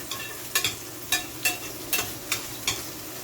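A knife mashes corned beef in a hot pan, giving a steady sizzle broken by about six sharp scraping strokes at an even rhythm, close and fairly loud.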